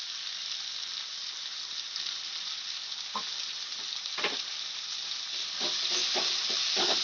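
Tomato with salt and turmeric fries in a pan with a steady bright sizzle, with a few soft scraping stirs near the end and no talking.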